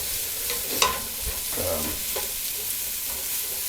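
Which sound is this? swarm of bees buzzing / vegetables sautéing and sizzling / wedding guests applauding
vegetables sautéing and sizzling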